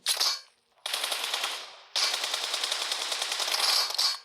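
Rapid automatic gunfire in the mobile game PUBG Mobile: a short burst, a brief pause, then two long sustained volleys of crisp, closely spaced shots, loud and without talk.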